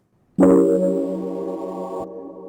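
A single G dominant seventh flat nine chord is struck once on a keyboard and held, its tones sustaining and slowly fading for about two seconds before being released.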